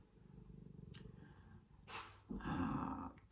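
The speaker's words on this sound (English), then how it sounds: "Non-stop purring here." A cat purrs steadily up close with a low rumbling rhythm, followed by a couple of louder breathy, growly bursts near the end.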